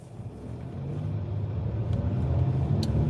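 Interior road noise of a car being driven in cold weather, a steady low rumble that grows slightly louder and fuller over the few seconds, with no voices.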